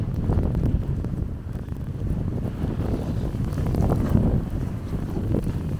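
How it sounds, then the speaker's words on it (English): Strong wind of a snowy blizzard roars and buffets continuously against the microphone, a loud, steady rumbling gust with no pauses. "it sure is a howling blizzard out here today"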